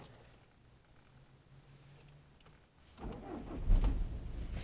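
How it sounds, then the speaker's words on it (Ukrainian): A 2.0 TDI diesel car engine cranks and starts after a quiet stretch, then settles into a loud, close, steady idle rumble. "запускаємо двигун"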